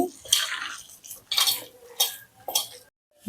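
Sweet corn vada batter being mixed with salt in a bowl, with irregular bursts of wet clattering and scraping that come and go over a few seconds and end in a brief pause.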